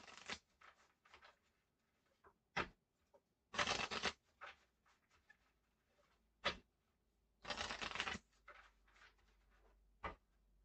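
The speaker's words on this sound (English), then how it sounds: "we're taking all of the discarded pot cards, shuffling them back in." Plot cards from the Black Orchestra board game being shuffled back into the deck, a series of short crisp riffles and card slaps close by, separated by quiet pauses and two longer bursts of shuffling.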